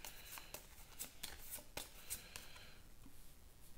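Villain deck cards for a solo X-Men themed board game being shuffled by hand, a quiet run of crisp riffling snaps and soft slides close by, with no talking.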